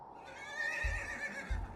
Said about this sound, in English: Oh, you can pet the horse?